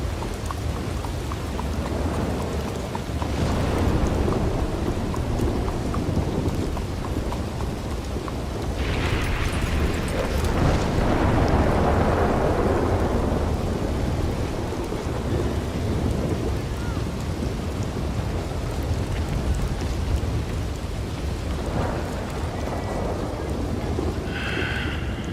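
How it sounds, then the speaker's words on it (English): Rain and rolling thunder in the video game Red Dead Redemption 2: a steady heavy downpour pattering on surfaces, with deep rumbles of thunder swelling around the middle and fading, no talk. "This game has legitimately the best looking rain in any video game I've ever played."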